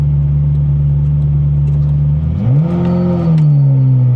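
A Ferrari 348 Spider engine idles steadily and loudly up close, then rises sharply in pitch as the car pulls away on a hill start, holding a higher, smooth drone to the end.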